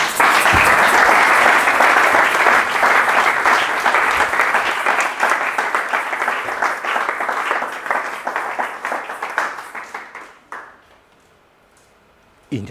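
A church congregation applauds and cheers loudly together, a dense roar of clapping with voices that holds for about ten seconds and then thins out and stops, leaving near silence.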